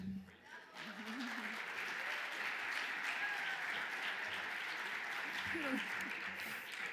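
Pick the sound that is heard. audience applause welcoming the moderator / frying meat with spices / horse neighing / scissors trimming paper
audience applause welcoming the moderator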